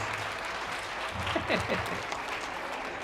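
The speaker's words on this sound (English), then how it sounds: "Give her a round of applause." A modest round of clapping from an audience at an elementary school literacy night, fairly faint and diffuse, with a brief murmur of voices rising in the middle.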